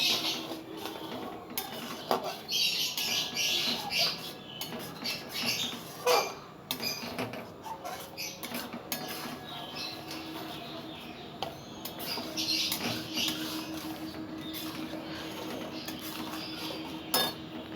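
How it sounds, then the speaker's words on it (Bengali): Sugar stirred into a milk mixture for sandesh in a bowl, with repeated spoon clinks and scraping against the vessel in an irregular rhythm over about eighteen seconds, close and moderately loud. "চিনি দিয়ে ভালো করে মিশিয়ে নেব।"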